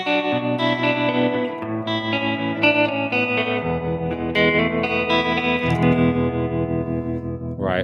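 An electric guitar plays sustained chords and picked notes, pulsing with a wavering tremolo and washed in reverb, alone and fairly loud.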